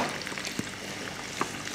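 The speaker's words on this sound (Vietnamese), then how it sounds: "Khi các bạn chiên thì các bạn có thể quan sát nè, khoai sẽ vàng khá là nhanh." Sweet potato pieces fry in hot oil for a chicken curry, giving a steady, even sizzle with a few soft pops, close by and with no talking.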